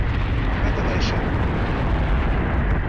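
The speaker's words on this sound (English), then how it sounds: "Missile shots and these bullets flying around are just amazing." Space-combat missile launches and streams of gunfire in Battlestar Galactica Deadlock merge into a dense, loud, unbroken roar with rumbling booms throughout.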